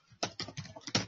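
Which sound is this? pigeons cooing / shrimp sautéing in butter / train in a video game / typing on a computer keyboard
typing on a computer keyboard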